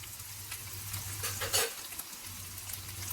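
Cubed potatoes frying in hot oil with cumin seeds, green chili and ginger for zeera aloo, a steady close sizzle with light stirring scrapes and a brief louder crackle midway.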